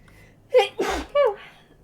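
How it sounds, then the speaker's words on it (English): A single sneeze in the Fallout 4 playthrough: a sharp gasping inhale followed by two bursts of expulsion, close and fairly loud, with near silence around it. "I have to sneeze."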